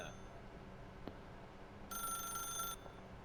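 A telephone in The Stanley Parable rings with a single short bright electronic burst, fairly quiet against a faint background hum, after an earlier soft click.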